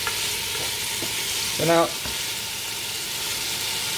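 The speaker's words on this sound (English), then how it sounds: "we're basically just sealing the flavours into the meat" Lamb meat sears in a hot pan for a Spanish stew, giving a constant bright sizzle with scraping stirs, while someone speaks briefly over it.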